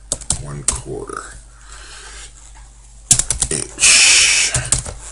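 Someone types on a computer keyboard while entering a value in a CAD file's properties, producing bursts of quick, close key clicks separated by pauses, with someone speaking in between.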